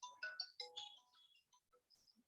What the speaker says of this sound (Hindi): एक मिनट जरा मैं अभी एक फोन रिसीव कर लूँ।